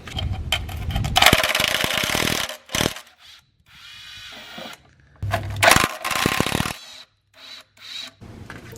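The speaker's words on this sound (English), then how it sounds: "So I'm going to pull these bolts out." Bolts, including 10 mm ones, are worked out of the engine mounts of a 4-cylinder engine: bursts of rasping, scraping tool noise broken by short gaps and a few sharp clicks, close and moderately loud.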